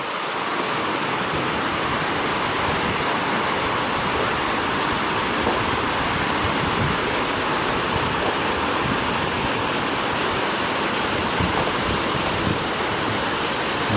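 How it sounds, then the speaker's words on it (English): Water rushes steadily through the deep Bunbury canal staircase locks, a loud, unbroken broadband roar that holds constant for the whole stretch with no voices. "And the water cushioning makes a nice sound"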